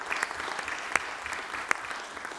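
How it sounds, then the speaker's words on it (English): Applause at a full council meeting, a soft patter of clapping from a modest group heard at a distance, steady for a couple of seconds with a few sharper individual claps. "a round of applause is probably warranted here for Adrian."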